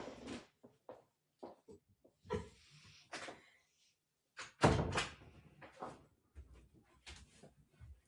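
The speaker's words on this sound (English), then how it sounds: "I'm going to close my door." A door being closed gives a series of scattered knocks and shuffles, then one louder thud near the middle, followed by softer bumps, in a quiet room with no voices.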